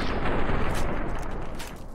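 Gunfire in the Fallout: New Vegas video game during combat against an armored enemy: dense, continuous loud shooting that blurs into a sustained rattling roar for about two seconds, with no speech.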